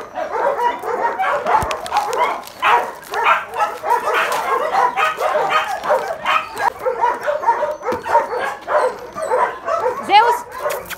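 A dog barks in quick yips and whimpers repeatedly at close range, the bursts coming in a steady busy rhythm throughout, with a person's voice mixed in among the barking.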